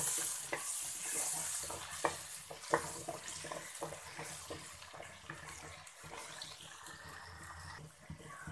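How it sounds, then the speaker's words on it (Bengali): Potato pieces fry in an oiled pan with a steady, close sizzle, while a spatula makes irregular scraping and clinking strokes throughout. The dish is chicken cooked with Malabar spinach and potatoes. "এরপর আমি আলুগুলো খুব সুন্দরভাবে ব্রাউন কালার করে ভেজে নেব।"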